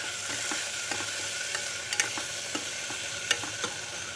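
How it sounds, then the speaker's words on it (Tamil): Onions and tomatoes fry in a pan for wheat rava upma, with a steady close sizzle and light clicks and scrapes as they are stirred. "வெங்காயம் நல்லா வணங்கிடுச்சு. தக்காளி போட்டுடலாம்."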